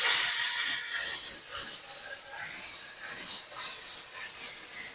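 A StmWorld steam cleaner hisses continuously and loudly, with scrubbing and rubbing strokes against a surface coming in pulses, close up.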